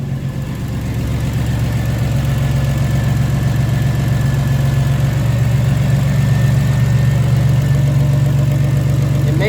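A turbocharged Buick engine idles steadily after new spark plugs and ignition coils are installed, a close, even low rumble with a faint whine running alone throughout.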